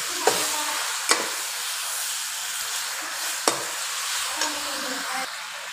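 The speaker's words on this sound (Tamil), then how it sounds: "கீரை சேர்த்து நல்லா வதக்கி விட்டுக்கணும்." Centella asiatica greens sauté in a pan for chutney, giving a soft continuous sizzle with a few sharp stirring knocks from a spoon against the pan, close up and without talk.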